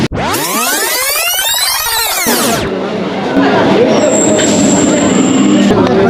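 A crowded Indian local train heading to the Gangasagar Mela opens with a piercing, sweeping wheel squeal. It then settles into a loud, continuous rumble and rattle of carriages.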